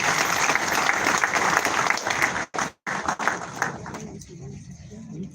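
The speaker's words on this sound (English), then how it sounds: "I think it deserves another round of applause." Applause from the audience at a Nigeria Customs Service ceremony, loud and dense and starting straight away, breaking off briefly, then fading to scattered claps.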